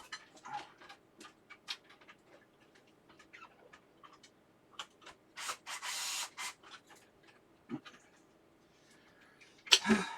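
Small screws being driven into a motherboard with a screwdriver during a PC upgrade, a run of quiet ticking and scraping clicks with brief bursts of rubbing, close and intermittent in a quiet room.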